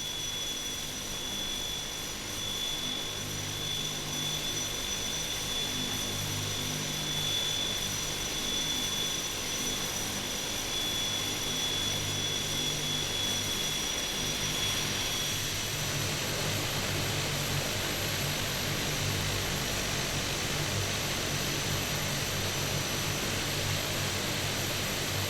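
A jet airliner spools up for takeoff on runway 25 at Luton, a steady broadband roar with a high whine that drops away partway through, heard continuously and evenly from the cabin with no voices.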